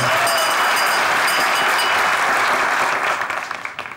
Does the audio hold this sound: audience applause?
yes